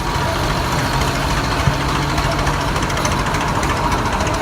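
A loud 100-year-old Minneapolis tractor engine runs steadily up close at the Rollag show parade, a rough, knocking chug that never lets up, with no voices over it.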